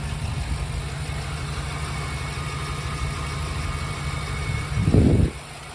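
The 7.3 liter V8 of a 2022 Ford E-350 Super Duty box truck idles with a steady, low, throbbing rumble close by. Near the end a brief rev swells, then it drops back to idle.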